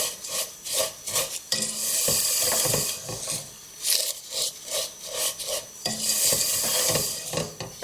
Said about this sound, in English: to toast the vermicelli for about 3 or 4 minutes until they take on a nice golden colour